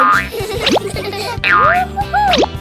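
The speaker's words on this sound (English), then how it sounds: "The ball bounces back and forth between them." A cartoon rubber ball bounces in springy boing sounds, several rising and falling twangs in quick succession over a light backing tune.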